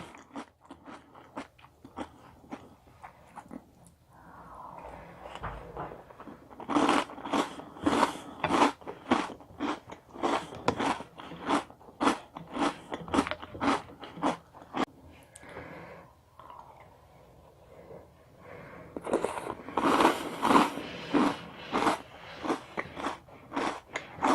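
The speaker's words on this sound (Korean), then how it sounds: "되게 바삭바삭해요." Crunchy Oreo O's cereal is chewed up close, with rapid, rhythmic crunching bites that come in several bursts separated by short quiet pauses.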